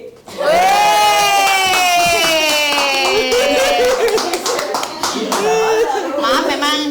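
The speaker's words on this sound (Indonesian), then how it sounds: "Tapi sekali lagi tepuk tangan untuk mereka" Loud cheering and clapping from a crowd for a dance performance, with shouts and whoops rising over the clapping and voices calling out throughout.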